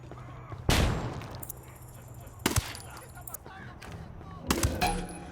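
Gunfire in Ghost Recon Wildlands, with three loud, close bursts of shots spaced a couple of seconds apart, each trailing off into echo, over a low background hum.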